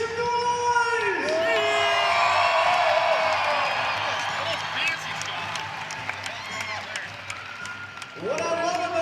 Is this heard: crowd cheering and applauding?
yes